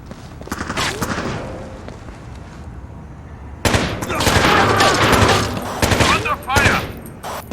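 Rapid gunfire crackles in Rainbow Six 3 on Xbox, scattered shots at first, then a louder sustained fusillade of bursts, close and harsh, with faint voices mixed in.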